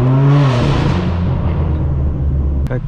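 A straight-piped BMW M4 F82 blares its loud exhaust up close on a Hollywood street, a harsh revving roar that climbs and then settles into a steady, rumbling drone, with a brief sharp crackle near the end.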